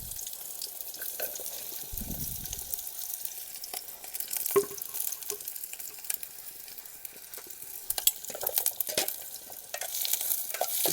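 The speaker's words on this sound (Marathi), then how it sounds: "तर मित्रांनो आता कांदा टाकून घ्यावा आपण मस्तपैकी। तेल झालाय गरम।" Chopped onion sizzles in hot oil over a wood-fired village stove, a soft crackling hiss with scattered stirring clicks and scrapes, fairly faint and steady throughout.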